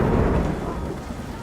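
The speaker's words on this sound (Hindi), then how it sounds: "बारिश की बूंदें अब भी गिर रही हैं" Rain pours steadily in a brief, dense hiss, with a low rumble underneath. The sound is continuous and close, with no voices.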